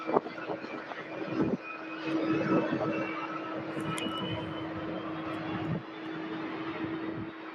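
A Cessna Citation business jet lands at Louisville airport, with a steady, distant engine rumble and a droning tone holding throughout, heard alone without talk.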